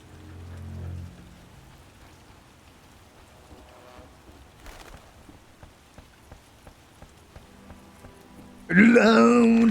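Heavy rain falling in a Witcher game swamp, a soft continuous patter with scattered drop taps, then a sudden loud burst of other game sound near the end.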